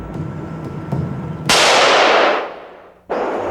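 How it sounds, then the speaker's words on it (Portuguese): A eucalyptus seed collector in an Australian coastal forest fires a gun. One loud, sharp report rings out and decays over about a second and a half, then a second blast cuts in abruptly. "Este tiro assustador, este homem que parece um caçador, na verdade não representam nenhuma ameaça para a fauna australiana."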